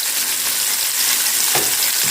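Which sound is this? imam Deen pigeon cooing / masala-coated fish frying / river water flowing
masala-coated fish frying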